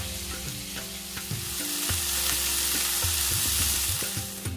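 Onion frying on a hot tawa for a fish tawa fry, a loud close sizzle that builds and holds steady while a spatula clacks and scrapes at irregular intervals, with no voices.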